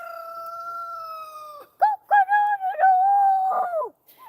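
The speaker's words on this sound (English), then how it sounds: "The chickens are so cute." Backyard garden chickens calling close by, a steady two-toned crow-like note followed by several short rising squawks and clucks, loud and clear with no talking over it.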